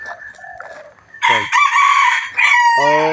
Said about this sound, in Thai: เสียงดีก็ไก่น้อยเสียงดีนะ